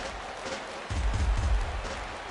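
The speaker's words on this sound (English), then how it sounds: "Crowd gets up for the 3-2." Crowd in a baseball stadium in a baseball video game swells into a loud, steady roar of cheering as fans rise for a full count, a dense wash of distant voices.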